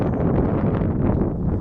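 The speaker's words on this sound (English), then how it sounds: "And my apologies for the wind." Outdoor wind buffeting a microphone in gusts of around 14 to 15 miles an hour, a loud close low rumbling roar that continues without pause.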